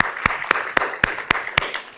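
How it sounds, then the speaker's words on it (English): A keynote audience, fresh from a short group yoga exercise, claps together in a steady rhythm. Six crisp, evenly spaced claps stand out over faint room noise. "Give yourselves a round of applause."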